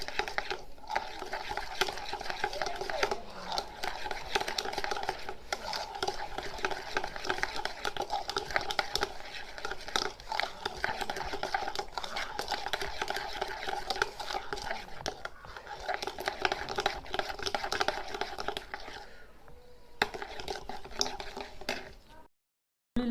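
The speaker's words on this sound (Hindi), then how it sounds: "इलेक्ट्रिक बीटर के अल्हम्दुलिल्लाह अच्छे से इसको मिक्स करेंगे अच्छे से।" Electric beater whirring through tea cake batter in a bowl, a steady close motor drone with rattling against the bowl, running for about twenty seconds before cutting off abruptly.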